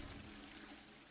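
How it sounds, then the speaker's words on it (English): Toilet flush in the video game Hogwarts Legacy, a steady, quiet rush of swirling water running through the whole short moment without talk. "You flush the toilet."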